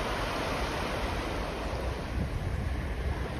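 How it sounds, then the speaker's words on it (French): Calm sea waves wash steadily along the shore at Sant Feliu in Catalonia, a continuous soft surf roar with light wind and no voices. "Ouais, les vagues sont calmes aujourd'hui."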